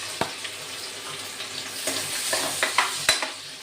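Chopped onion sizzles in hot oil in a pan where lightly boiled new potatoes were fried earlier, a steady crackle broken by several sharp stirring knocks.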